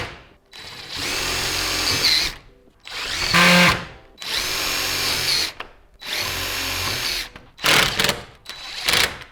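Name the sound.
power drill driving tap screws into a garage door bottom retainer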